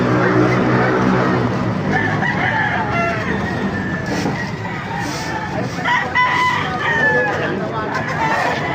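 Chickens cluck and a rooster crows repeatedly, loud and close, over a steady farmyard din at a market in Baliuag, with faint voices in the background.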